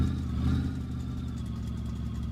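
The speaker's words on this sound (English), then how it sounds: "we've got a loud exhaust on this thing" A car with a loud exhaust in My Garage rumbles up close at idle and revs briefly near the start before settling to a steady throaty drone.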